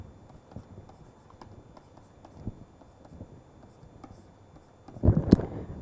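Writing on a board during a lecture, faint scratchy strokes at an uneven rhythm, ending in a louder bump or knock near the end.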